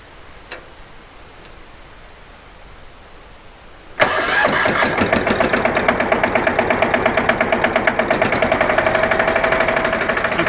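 A Dennis Premier engine sits quiet, then a short click gives way to a sudden start, and the engine settles into a loud, steady running clatter with a rhythmic ticking pulse that lasts to the end.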